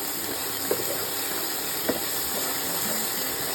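Vegetables fry in hot white oil in a pan, giving a steady, close hiss with a few faint clinks and no talking.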